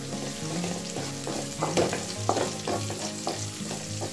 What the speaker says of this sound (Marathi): लसूण टाकल्यानंतर आपण यामध्ये टाकूयात हिरवी मिरची